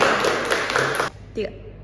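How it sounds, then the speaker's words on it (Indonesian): Classroom applause for another group during a school microteaching lesson, a dense burst of clapping for about a second that stops abruptly, followed by a faint thump. "tepuk tangan dulu untuk kelompok lain juga"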